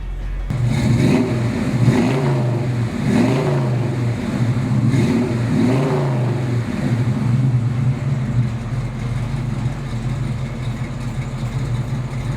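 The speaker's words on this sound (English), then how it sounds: "How about we start it so you can hear that mouse motor" A 1965 Ford Shelby Mustang GT350's small-block V8 runs close and loud, surging through several rhythmic revs in the first seconds before settling into a steady, rumbling idle with no talk over it.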